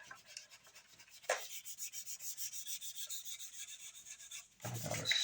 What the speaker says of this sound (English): I gotta stop sanding that